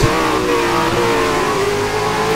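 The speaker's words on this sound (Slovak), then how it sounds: "Konečne si môže užívať aj zvuky Mercedesu." Mercedes safety car engine from the F1 2012 racing game at the Korean Grand Prix, a loud, steady mid-pitched drone held under revs for the whole moment, with no talking.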